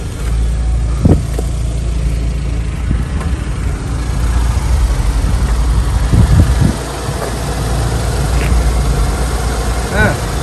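A 2011 Kia Morning with twin exhaust idles with a steady low rumble throughout, broken by a few faint clicks and knocks nearby.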